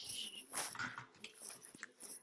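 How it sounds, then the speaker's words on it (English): Two household dogs stir indoors in a home with children, giving a burst of scuffling, snuffling and mouthy noises at moderate, close range that rises and falls across the whole stretch. "Oh, there go the dogs."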